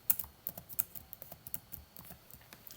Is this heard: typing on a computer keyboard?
yes